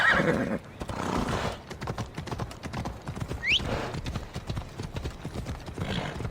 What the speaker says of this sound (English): I need to take this horse either to Adonis or to the stable boy.